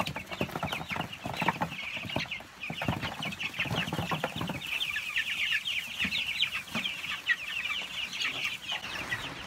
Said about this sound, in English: We got some barred rocks, some Icelandic chicks, and then some Cornish crosses.